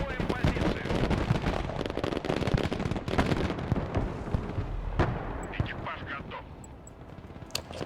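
Artillery barrage in the modern-warfare RTS game Broken Arrow, a dense run of booming blasts and cracks rolling over each other, easing slightly toward the end with faint chirps of game effects.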